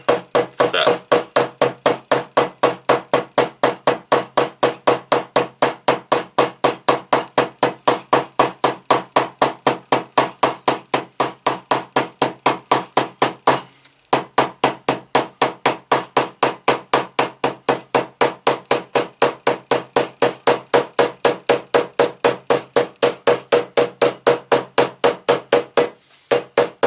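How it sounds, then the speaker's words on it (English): A hammer pounds down a glued leather belt in a steady, rapid series of sharp, close taps, dozens of evenly spaced blows with one brief pause midway and no talking. "I want to hammer this down because it helps that glue to just set real good"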